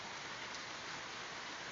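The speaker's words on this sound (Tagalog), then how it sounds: "Sobrang lakas ng ulan" Heavy rain pours down in a steady, dense hiss, loud and unbroken, with no voices.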